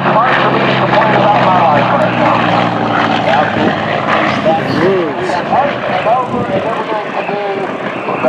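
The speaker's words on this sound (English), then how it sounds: "let you see the top of the beautiful Corsair" A Corsair propeller airplane roars past close and loud at an air show, its engine pitch sweeping as it flies by, with people talking over the noise.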